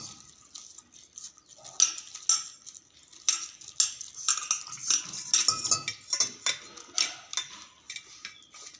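A utensil beats eggs with salt and gram flour in a bowl, giving quick, rhythmic clinks and taps against the side that speed up into a steady whisking patter.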